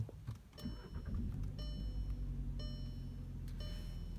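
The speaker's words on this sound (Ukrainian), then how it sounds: "запускаємо Passat 2019 року" A 2019 Volkswagen Passat engine cranks and settles into a low, quiet idle, with dashboard chimes ringing at about one-second intervals over the rumble.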